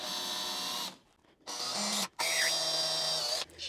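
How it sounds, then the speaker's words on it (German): Small drill bit boring a pilot hole into wood on a marked spot while building a side table, a whining motor run in several short bursts separated by brief pauses, close and loud. "wir nehmen jetzt mal ein ganz kleines Bohrerchen und bohren jetzt erstmal vor auf der Markierung"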